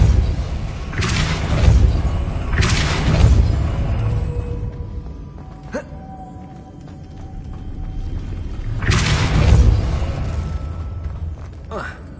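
Depulso spells are cast in a Hogwarts video game, with several loud whooshing booms bursting out in spaced clusters, a sharp metallic ping in between, and a voice speaking at times.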